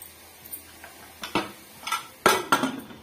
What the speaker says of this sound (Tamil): இப்ப நல்லா வந்து கிண்டி விட்டுக்கலாம்